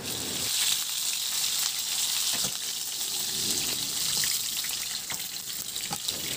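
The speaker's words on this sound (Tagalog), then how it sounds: "Isunod ko na rin iprito yung saging na saba, 2 piraso" Two saba bananas fry in hot oil in a pan, giving a dense, continuous close sizzle with a few sharp pops.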